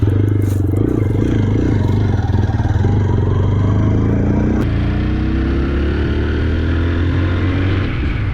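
A new 2025 TVS Apache RTR 160 4V with USD fork rides on the road with a loud, steady engine drone and wind rush, then shifts gear and the pitch climbs as it accelerates.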